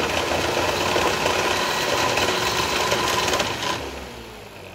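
A 6-volt electric motor from a rebuilt deer feeder runs with a loud, buzzing mechanical whir and rattle, then winds down and fades near the end.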